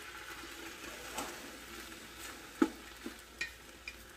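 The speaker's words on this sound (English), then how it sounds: "I'm going to stir these around maybe probably a minute or two." Ground beef and onions sizzle softly in a pan for goulash, with a faint steady frying hiss and a few light scraping knocks as the mixture is stirred.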